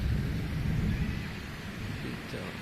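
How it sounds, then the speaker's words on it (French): A thunderstorm in Indonesia rumbles low and deep while heavy rain pounds tin-roofed houses, a dense, roaring wash that slowly eases. "Il y a de l'orage et tout."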